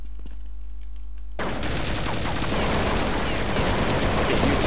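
Dense, continuous gunfire from Counter-Strike 1.6 in Zombie Base Builder mode fills the scene after a quiet opening, with overlapping shots and automatic bursts sustained loudly to the end.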